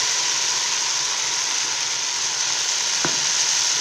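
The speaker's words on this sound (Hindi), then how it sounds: "लहसुन अदरक को भूनना है, अच्छी तरह भूनना है" Garlic and ginger fry in a pan for vegetable pulao, a loud, continuous hiss and sizzle with a single brief stirring scrape near the end.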